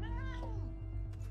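A fat cat mount in the video game Final Fantasy XIV gives a single drawn-out meow with wavering pitch, loud and close, over a steady background game hum and music.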